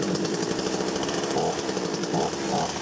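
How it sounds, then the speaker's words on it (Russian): A freshly repaired gasoline chainsaw, fixed after a broken fuel pump fitting on its carburetor, runs at a steady high-revving buzz, loud and close, with brief surges in pitch as the throttle is blipped. "Вот ремонт бензопилы закончен, и можно проверить, как она работает"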